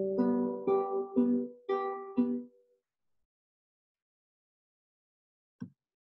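Five clean acoustic guitar notes, picked on open strings and fretted positions, ring out one after another at an even, unhurried pace in a quiet room, then fade to silence before one last short note sounds.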